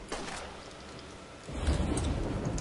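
Thunderstorm ambience from the Borderlands video game: a low rumble of thunder that swells halfway through over a hiss of steady rain, moderately loud, with no talking.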